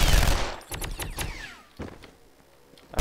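Laser weapons firing in a Contract J.A.C.K. shootout: a loud burst at the start, then a rapid string of sharp zapping shots with a descending whine, a lone later blast, and quieter stretches between.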